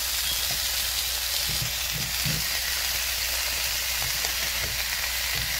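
Potatoes frying in a hot pan, a dense, steady sizzle throughout with a few soft low clunks of stirring underneath, close and loud, no voices.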